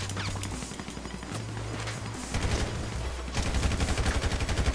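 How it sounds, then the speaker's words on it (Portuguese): Bursts of gunfire in GTA 5 Online, automatic weapons rattling in dense, rapid volleys that keep up throughout and grow louder and busier toward the end, with no talk over them. "tem um cara me atirando pelo lado"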